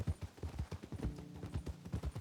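Horse hooves clip-clop steadily while a horse is ridden in a video game, with a quick, even rhythm of close, distinct hoof strikes throughout.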